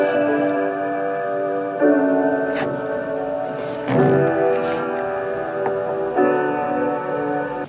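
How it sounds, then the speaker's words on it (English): Slightly out-of-tune live piano recorded in a house room, sustained chords changing a few times with soft room tone and faint ticks underneath, close and moderately loud, no talking. "we tracked this out of tune live piano at Andrew's house"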